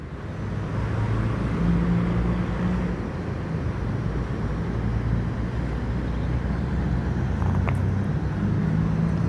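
Buses moving through a terminal, including a Tronton sleeper-class bus and buses with Patriot and Jetbus 2 bodies, give a steady, loud engine rumble with road noise throughout.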